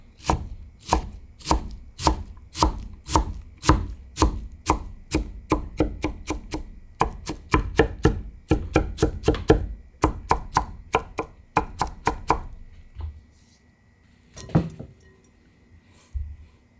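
A kitchen knife mincing vegetables on a cutting board while preparing a low-calorie cabbage, tofu and egg dish, heard as steady rapid rhythmic chops close up that run for about twelve seconds, then slow to a few scattered knocks.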